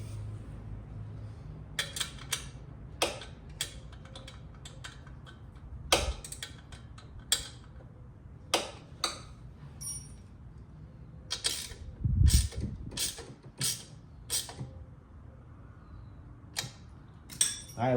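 Motorcycle exhaust header bolts on a Stealth exhaust being tightened with a ratchet, a series of sharp, irregular clicking ticks heard up close over a quiet background.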